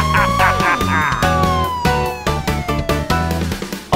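Cartoon police car siren, a loud, continuous wailing tone with gliding pitch sweeps over bright children's music and percussion.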